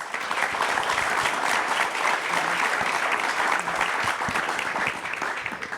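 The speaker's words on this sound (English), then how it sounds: "So please join me in giving them all a round of applause." An audience at a panel event on Latino power and politics applauds, a dense, steady wash of many hands clapping that continues for several seconds with no voices on top.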